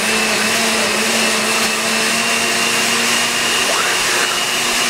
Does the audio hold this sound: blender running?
yes